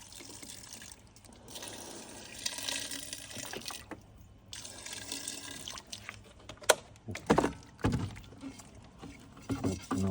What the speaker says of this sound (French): En même temps, je me rince les mains.